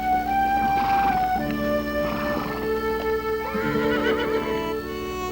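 Wild horses neighing and whinnying in several drawn-out calls over a steady, loud musical background.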